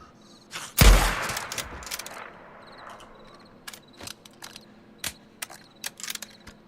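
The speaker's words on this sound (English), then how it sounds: "I'd like to try this rifle." A single loud rifle gunshot from the video game Days Gone rings out near the start and decays into ambient noise, followed by scattered sharp clicks and ticks.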